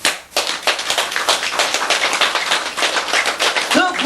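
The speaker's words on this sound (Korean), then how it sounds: "그 어른을 위해서 박수 좀 쳐." Crowd clapping for an elder at a Buddhist sutra lecture: dense, steady applause from many hands, fairly close and loud, with a brief voice near the end.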